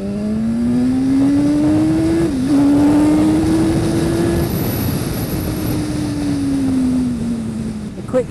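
A 2015 BMW S1000RR sport motorcycle rides along a coastal road, its engine a loud, close, sustained drone that climbs steadily in pitch, dips briefly at a gear shift, then holds and slowly falls, with heavy wind rush throughout.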